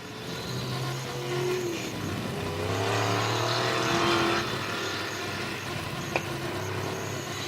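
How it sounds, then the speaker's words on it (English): Race cars circling a track during a Super Street feature race, engines droning and rising as cars pass at middle distance, several overlapping motors swelling and fading, with a sharp click near the end. "Right now we've got 7 cars out on the track, Wesley."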